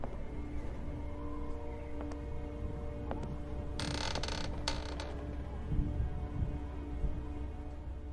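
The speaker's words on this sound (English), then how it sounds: "God, these stairs are so creaky!" Wooden stairs creak in The Walking Dead video game, a drawn-out strained creaking with a few sharper groans over steady background ambience, at moderate level with no talking.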